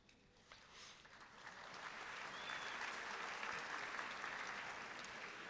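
Steady applause from a large audience fills a final-year oath-taking and prizegiving ceremony, a dense, even wash of many hands that swells slightly after the first couple of seconds and holds, moderately distant and fairly soft.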